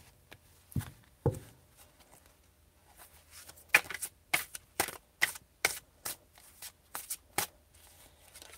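A deck of tarot cards being shuffled in a series of quick, crisp riffles and snaps, with sharp bursts of card noise and soft pauses in between.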